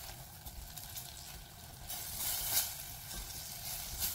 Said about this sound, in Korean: 그래서 고기 익히실 때 좀 신경 쓰셔서 아주 맛있게 볶아주시면 돼요.